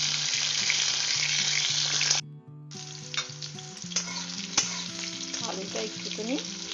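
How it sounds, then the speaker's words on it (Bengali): Potatoes frying in a pan with black cumin seed tempering and bay leaf give a steady close sizzle, broken by a brief pause, then continuing with scattered stirring clinks and scrapes. "আলুটা একটুখানি ভেজে নিচ্ছি।"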